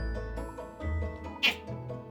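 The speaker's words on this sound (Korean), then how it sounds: "예쁜 고양이 어디 있어요?" A cat meows once in a short, fairly clear call, with soft household background and a quiet voice nearby.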